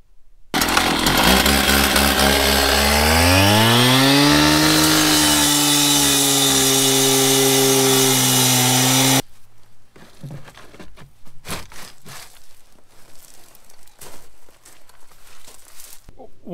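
A power tool cuts loudly and steadily through a broken buried pipe for about eight seconds, its whine rising then holding. The cut stops abruptly, followed by quieter scattered knocks and footsteps on a concrete work site.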